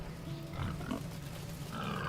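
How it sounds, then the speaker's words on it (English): Huge pigs and piglets grunting in a video game, a steady stream of low oinks and snorts amid continuous ambient game noise, with no talk. "They were chilling over here with some huge pigs."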